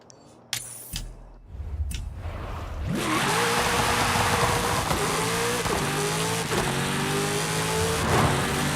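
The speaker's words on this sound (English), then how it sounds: "Do like those Aston Martins, they sound great." An Aston Martin engine in the racing game Forza Horizon 5, loud and close: it builds to a sustained high rev, its pitch climbing and stepping through gear changes, with tyre noise underneath.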